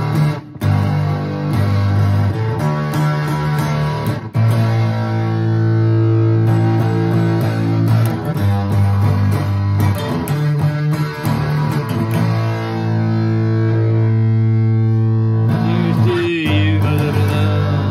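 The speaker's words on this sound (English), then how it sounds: "This is like maximal distortion." Heavily distorted, buzzing sustained tones fill the audio, loud and saturated, with gritty fuzz smeared over steady pitched notes.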